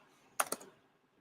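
Two quick computer keyboard key presses for a Shift+A shortcut, crisp and close, landing in fast succession against a near-silent background.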